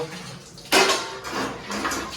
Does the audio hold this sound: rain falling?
no